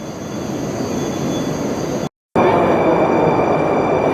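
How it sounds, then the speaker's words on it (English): Steady loud rumble of an old-fashioned Red Arrow passenger train rolling along the tracks in Moscow, briefly cutting out before resuming with a sharper whine. "Absolutely amazing old-fashioned train."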